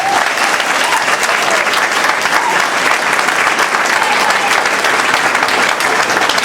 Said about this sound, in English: so can you give a round of applause for our science department?